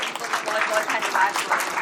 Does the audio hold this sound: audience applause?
yes